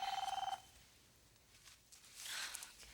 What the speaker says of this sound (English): It's probably just Becky calling in to check up on the leg.